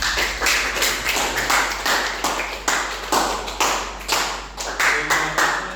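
Steady, energetic clapping from a group, rhythmic and continuous throughout, close and loud with no talking.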